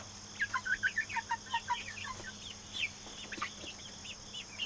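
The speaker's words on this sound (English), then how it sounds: "These chickens are funny." Chickens cluck and chatter in quick bursts, fairly faint over a steady low hum, with a flurry of rapid clucks at the start.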